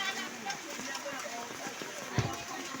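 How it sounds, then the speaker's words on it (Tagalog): Heavy rain pouring down in Novaliches during a flood, a steady dense wash of noise with a few sharper splashes and thumps, while a person talks over it. "Lakas kasi ng ulan mula kaninang alas 3 madaling araw"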